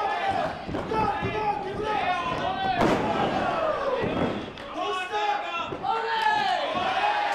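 A wrestling arena crowd chants Olay in rhythmic, swelling waves, a broad roar of many voices running steadily beneath a commentator's continuous talk.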